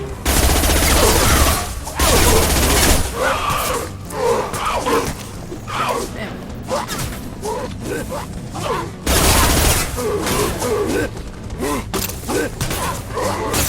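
Sci-fi gunfire and mechanical clatter during a Mass Effect 2 firefight, with loud bursts near the start and again in the latter part, plus scattered impacts and speech in between.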